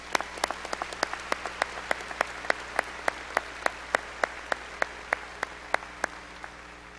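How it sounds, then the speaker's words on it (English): An audience at a high school commencement ceremony applauds the returning choir, a steady, fairly distant patter of clapping with a few sharper, evenly spaced claps standing out over about seven seconds. "let's give them one more round of applause."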